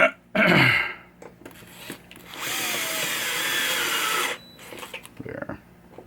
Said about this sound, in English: I'm going to get all these screws in these first before I tighten them down.